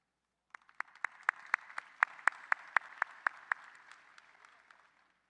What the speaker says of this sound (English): Please hold your applause until all are introduced.